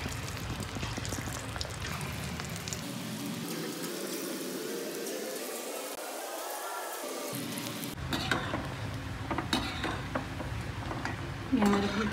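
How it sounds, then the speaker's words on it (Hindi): Moong dal fritters dropped into hot oil, a loud continuous deep-fry crackle that rises and swells as batter goes in, then settles into a steady bubbling sizzle with a few clinks, close throughout, no talking. "अब हम बड़े तलना शुरू करते हैं"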